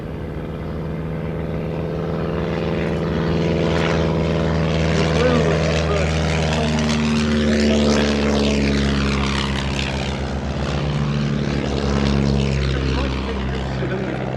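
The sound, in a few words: Blackburn B2 propeller aircraft flying at Shuttleworth air show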